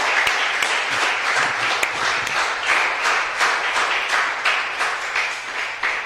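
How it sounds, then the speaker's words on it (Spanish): Church congregation applauding during a sermon, sustained dense clapping from many hands with a steady rhythm, loud and close throughout. "Demos un aplauso al Señor,"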